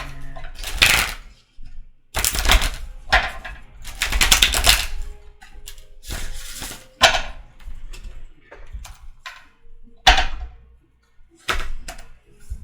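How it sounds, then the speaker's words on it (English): Tarot cards being shuffled by hand in loud bursts of riffling and flapping, several separate rounds with short pauses between them, up close with no talking. "So I'm going to keep shuffling these cards here."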